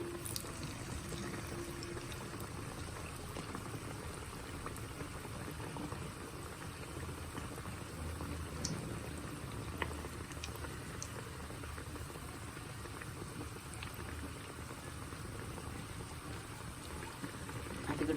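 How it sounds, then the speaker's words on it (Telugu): Potato vadas deep frying one at a time in a pan of oil, a steady low bubbling hiss that stays even throughout with faint clicks, no voices. "ఒకటొక్కటిగా ఒకటొక్కటిగా వేయించుకుని ఒకటి ఒకటి పైకి వచ్చేసిన తర్వాత మళ్ళీ ఇంకొకటి వేద్దాము"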